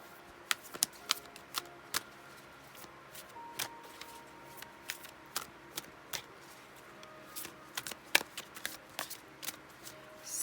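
Oracle and tarot cards being shuffled by hand in a quiet room, a run of sharp crisp riffles and taps scattered irregularly across the stretch, close and fairly soft, with no talk.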